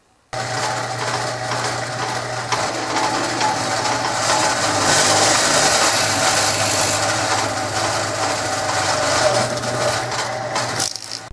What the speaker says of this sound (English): The center of the lug is marked and a hole is drilled for the tip holder bolt.